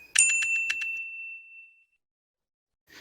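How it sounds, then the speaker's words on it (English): A perky shaker sample for an Afro beat in FL Studio gives a few quick bright hits topped by a high, bell-like ring that lingers and fades alone, with a faint swish at the very end. "the second one is more of a perky kind of shaker"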